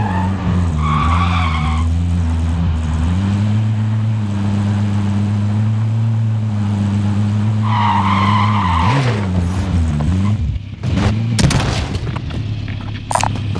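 A car is driven hard and skids in the video game Call of Duty Warzone, with a loud steady engine drone, tire squeals and short bursts, all alone without talk.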